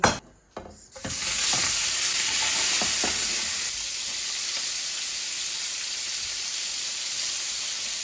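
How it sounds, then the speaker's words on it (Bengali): Hilsa fish pieces rubbed with turmeric and salt fry in a hot pan with a loud, steady sizzle and hiss. The sizzle starts after a short quiet moment, with occasional faint scrapes and pops, and no one talks. "আমি এখানে মাছ ভাজি করতেছি।"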